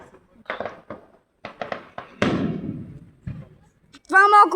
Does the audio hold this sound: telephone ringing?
no